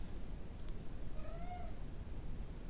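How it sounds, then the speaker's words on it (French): A domestic cat gives a single short meow, faint and somewhat distant against a steady background hiss in an otherwise quiet room, with no talking. "Le chat en prime."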